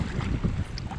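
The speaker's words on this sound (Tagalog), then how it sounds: "Lakas na ng hangin." Strong wind buffeting a small fishing boat at sea in rainy weather, a loud rushing roar with heavy microphone wind noise and water wash, brief and continuous.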